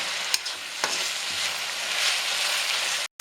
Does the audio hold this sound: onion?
yes